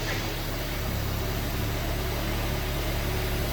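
A car engine idling steadily after a misfire repair, a continuous low hum and rumble close by with no other sounds.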